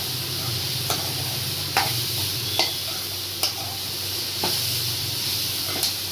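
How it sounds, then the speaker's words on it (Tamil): Bitter gourd with onion, tomato and mustard seeds sizzles steadily in a hot pan while a spatula scrapes and stirs at irregular intervals, close and continuous with no talking. "இது ஒரு 2 நிமிஷம் வதக்கிக்கலாம்."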